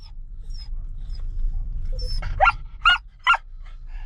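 Several corgis and other dogs bark in short separate bursts at an outdoor dog festival, a few sharp yips standing out over a low crowd hum.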